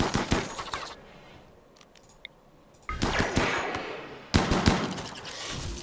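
Gunfire in the colony game RimWorld, sharp bursts of rapid shots in two loud clusters separated by a quieter pause.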